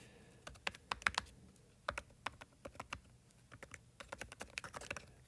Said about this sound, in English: You're going to type an email address